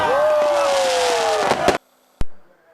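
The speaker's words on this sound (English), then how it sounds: "The night was lit up bright with the dazzling array of fireworks seen all over the state at the stroke of" New Year's midnight fireworks in Goa: a rising, then falling whistle from a rocket, a couple of sharp cracks, a short pause, then one hard bang that trails off.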